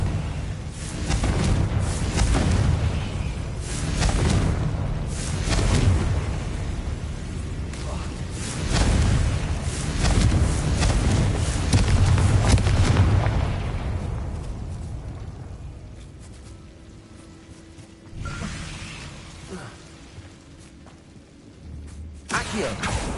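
Confringo fire-blast spells go off during Hogwarts Legacy gameplay, a run of heavy booming bursts in the first fifteen seconds, then quieter sparse hits with an occasional sharp blast near the end.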